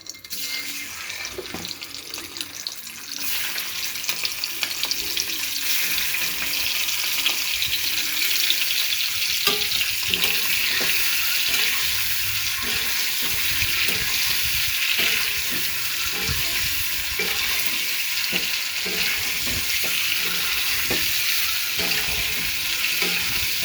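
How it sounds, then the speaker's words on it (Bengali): Eggs frying in a little oil in a pan make a steady, rushing sizzle that swells after the first few seconds and then holds evenly. Close and continuous, with faint stirring and no voices. "ডিমটা আমি ফ্রাই করে নিচ্ছি।"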